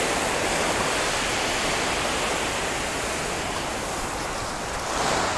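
Sea waves wash onto a Dubai public beach as a continuous loud roar of surf, close and steady, swelling slightly at the end, with no voices.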